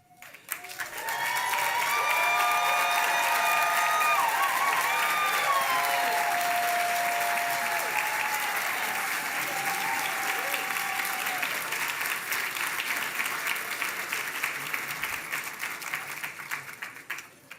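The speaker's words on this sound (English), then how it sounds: "We know how to applaud." An audience at the 2025 Audies awards applauds the judges: a large room of clapping swells quickly, holds loud and steady for several seconds, then thins and fades toward the end.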